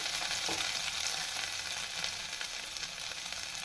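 Ground cumin and coriander paste with dry chili powder fry in a pan for a spiced new-potato curry, giving a steady, even sizzle with a soft crackle. The sound holds at a constant close level, with no voices.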